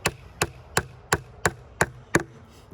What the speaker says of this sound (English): Hammer a nail in.